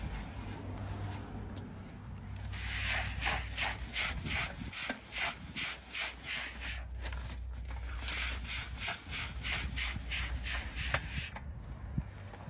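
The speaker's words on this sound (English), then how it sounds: "So I've wrapped the microfiber cloth around the head of the steamer. I'm just going to steam the entire carpet." A steamer head wrapped in a microfiber cloth is worked back and forth over a car carpet mat, giving close, repeated scrubbing strokes in a rough rhythm with a faint steady hiss beneath.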